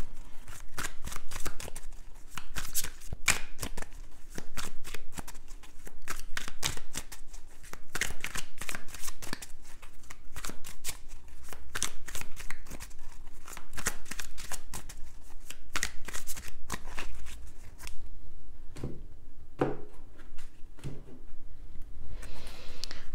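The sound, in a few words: tarot cards being shuffled and laid face down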